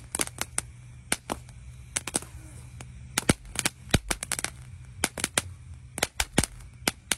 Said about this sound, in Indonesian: Ini pertama kali saya menyalakan mercon mini cake dihadapkan ke bawah ya.